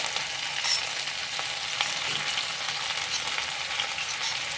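Chilli frying in butter in a pan gives a steady, dense sizzle with soft stirring scrapes, close and continuous throughout, no voices.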